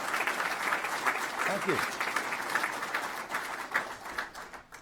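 An audience applauds steadily at a dedication ceremony for an amphitheater, the dense clapping filling the whole stretch while someone briefly speaks over it.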